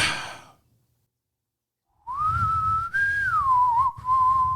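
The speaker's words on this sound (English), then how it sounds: "it starts with a whistle" A person whistles a short, clear tune after a brief pause, the melody sustained and wavering with a few breaks, loud and close.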